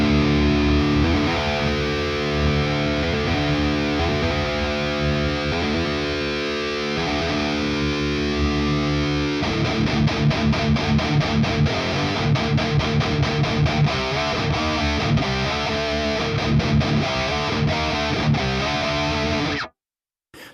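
Electric guitar played through a Soldano amp model in Positive Grid Bias X amp software, a heavily distorted tone with sustained chords giving way to fast chugging palm-muted riffs for about twenty seconds.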